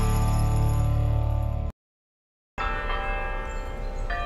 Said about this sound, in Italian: Oggi ci accolgono le campane di Nostra Signora della Mercede